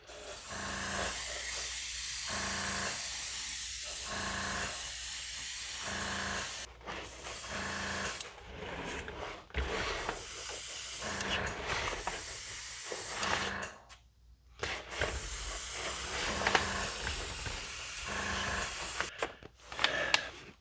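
An airbrush sprays paint onto a 1:7600 Space Station K7 model, a steady close hiss that pulses in short bursts, then breaks into sputtering, uneven puffs as the paint runs out.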